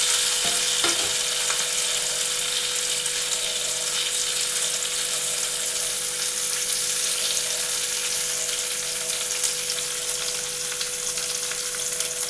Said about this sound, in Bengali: আমি এবার হালকা করে এটা একটু ভেজে নেব।